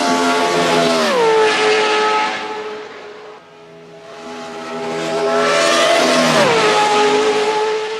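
A car engine revving hard and accelerating through gears, loud and close, pitch climbing then dropping at each shift, easing off briefly before building into another long rising pull.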